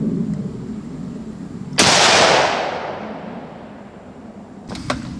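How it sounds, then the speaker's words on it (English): Savage Axis .308 rifle fires one sharp, loud shot that echoes away over a couple of seconds, followed by a faint click. "Shot number 8."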